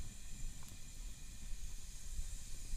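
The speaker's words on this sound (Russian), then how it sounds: "Вот можно услышать, как чайник снова закипает." A kettle outdoors hisses and rumbles softly as it heats back toward a boil, with a steady low bubbling and faint high hiss throughout.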